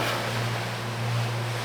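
Twin-engine boat cruising at roughly seven knots on open water, a steady low engine drone with strong harmonic hum blended with wind and water rush, continuous and close with no talk.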